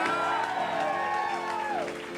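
Comedy club audience applauding and whooping in a live room, a short burst of clapping and cheers that fades out within about two seconds.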